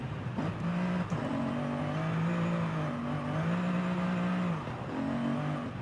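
A car driven in the racing game Forza Horizon 5, its engine holding a steady, fairly quiet droning hum with gentle rises and falls in pitch, heard alone with no voices.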